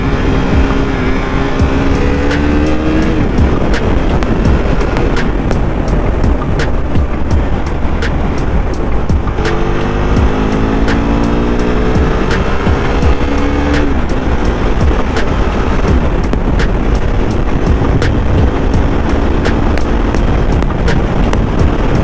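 A KTM RC390 motorcycle engine runs continuously close by, a loud steady drone with shifting tones as the revs rise and fall, with wind buffeting the microphone throughout.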